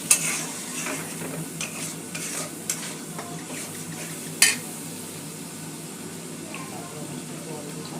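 Green chili, tomato and ginger paste sizzles steadily in a hot pan while being stirred, with occasional sharp scrape and clink of the utensil against the pan near the start and middle.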